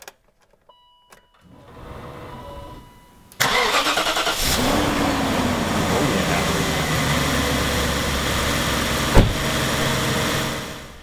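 A 2001 BMW 740iL starts after sitting for months: a few quiet clicks, then the starter cranks briefly and the engine catches and settles into a steady, fairly loud idle, with no talking.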